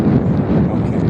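Steady, loud wind buffeting an outdoor microphone on a ranch, a continuous low rumble with no clear gaps.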